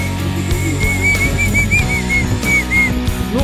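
A clay whistle played at an Easter fair in Gorodets gives a clear, bright warbling tone in a short wavering melody of repeated notes, close and loud over a busy crowd murmur.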